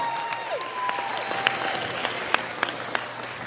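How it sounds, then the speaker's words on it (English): Audience applause at a men's basketball championship tournament, a steady wash of clapping from a gym crowd with a few sharper nearby claps and a faint tone over it. "A round of applause for our 2nd place team, the Nash Central Bulldogs."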